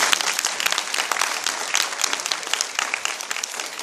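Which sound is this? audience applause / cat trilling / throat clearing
audience applause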